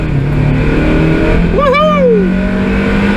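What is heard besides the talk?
Mazda MX5 Mk2 NB engine revving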